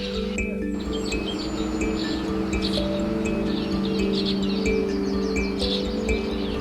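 Himalayan forest birds calling on a morning in Bhutan, with scattered high chirps and short whistled notes over a steady low hum throughout.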